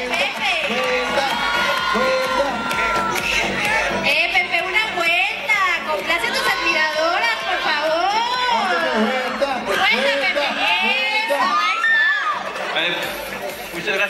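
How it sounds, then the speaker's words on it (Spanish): Crowd at an awards gala cheering, whooping and shouting for a winner, loud and sustained, with excited voices and chatter mixed throughout. "¡Un aplauso!"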